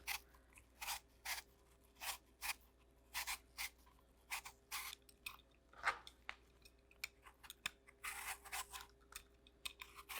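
A Granny Smith apple being peeled and cut: a string of crisp, short scraping and slicing strokes in an irregular rhythm, close and fairly faint, with quiet pauses between them.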